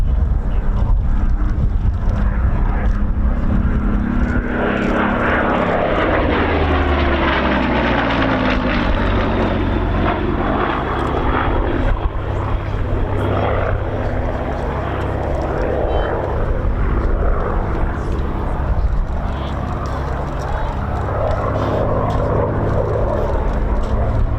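A Spitfire propeller plane flies a 3/4 victory roll at an air show, its engine droning loud and continuous with a slowly sweeping pitch as it passes, wind rumble underneath and a faint voice at times.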